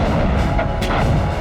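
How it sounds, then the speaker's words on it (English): WWII artillery barrage at El Alamein, a dense, continuous wall of heavy gunfire with deep rumbling booms and a few sharper blasts standing out, loud and sustained throughout. "he unleashes a massive artillery barrage"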